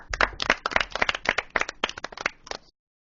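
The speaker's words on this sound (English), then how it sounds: "Clap for them." Students in a classroom quiz clapping for their groups, a fairly close cluster of brisk hand claps in a loose rhythm that stops abruptly, leaving silence.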